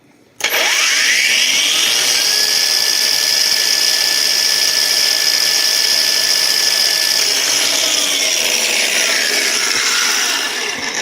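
A HEIMERDINGER LB184 cordless angle grinder with display spins up abruptly and holds a loud, steady high-pitched whine at high speed for about ten seconds, close by with no voices.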